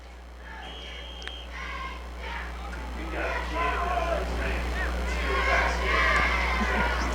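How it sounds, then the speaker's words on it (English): Crowd at a high school football game cheers after a long touchdown run, a broad distant roar swelling steadily under a close announcer's commentary. "you can hear it's exciting the crowd here"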